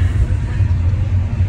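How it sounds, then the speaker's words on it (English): London street traffic rumbles outside as heard from inside a car, a low, steady engine and road drone, brief and fairly loud, with no voices. "The traffic in London and all the noise."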